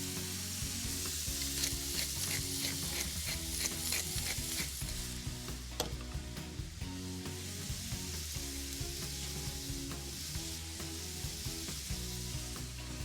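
Garlic, onions and fennel fry in butter and olive oil in a pan with a soft, steady sizzle. Faint stirring scrapes and small pops are heard close by.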